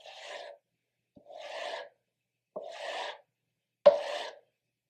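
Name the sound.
stropping the back of a chisel blade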